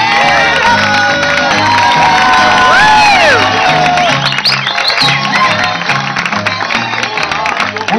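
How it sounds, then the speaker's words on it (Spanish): A loud crowd at a Mexican folk show in Ixtapa applauds and cheers, with whoops and high shouts rising over steady clapping while music plays underneath, close and sustained throughout. "un aplauso, un fuerte aplauso al profesor Horacio, Horacio Salgado"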